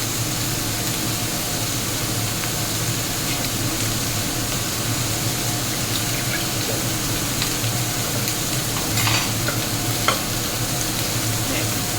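Meatballs and chili stir-frying for a holy basil dish sizzle steadily in a hot pan as water is added, a close, continuous hiss and crackle with faint stirring throughout.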